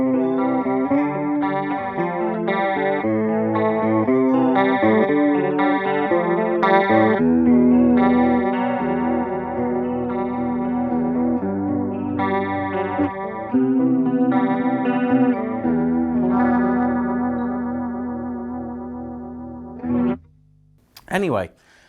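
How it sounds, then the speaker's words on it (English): Electric guitar played through a Boss chorus pedal, ringing out sustained, swirling chords that blend into one another for about twenty seconds, close and full. A couple of short, sharp bursts of noise cut in at the very end. "Really, really great sounding chorus pedal."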